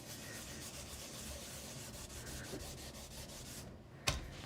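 An embossing buddy anti-static pouch is rubbed back and forth over cardstock, a close, steady, soft scratching swish with rhythmic strokes, ending in a brief tap.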